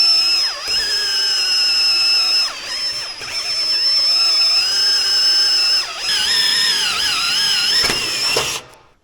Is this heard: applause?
no